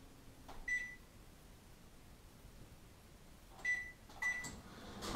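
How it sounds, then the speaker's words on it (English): A microwave oven hums faintly and steadily, broken by three short beeps, one early and two near the end. "So throw that in the microwave"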